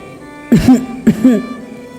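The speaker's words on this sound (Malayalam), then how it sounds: "ജ്യൂസ് നെറുകയിൽ കയറി ചുമയ്ക്കാൻ തുടങ്ങി" Two short bursts of coughing and throat clearing from a woman choking on juice, close and fairly loud, separated by a brief pause, with no talk.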